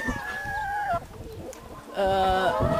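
Free-range hens kept loose on a barn floor rather than in cages give short, rising-and-falling clucks at the start and again near the end, with a quieter scratchy pause between.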